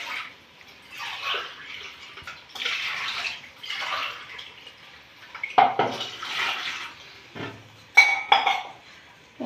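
Water poured from a tumbler onto rice in a pot for kuska, several separate splashing pours in quick succession with metallic clinks of the vessel in between.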